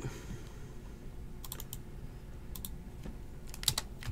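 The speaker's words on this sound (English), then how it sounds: "I'll get to typing it." Computer keyboard typing during a football card break stream, sparse clusters of clicks over steady background noise, faint and irregular with no talk.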